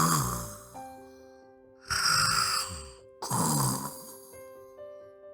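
A sleeping owl snores in slow, drawn-out breaths, two loud rasping snores with quieter pauses between, set against soft sustained musical tones.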